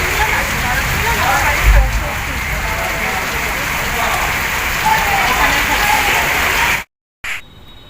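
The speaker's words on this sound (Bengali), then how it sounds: "আমি এখনও এখানে বসে, প্রচণ্ড বৃষ্টি হচ্ছে।" Heavy evening rain pouring steadily onto surfaces, a dense, loud, continuous wash with a brief thump partway through, then a sudden cut near the end.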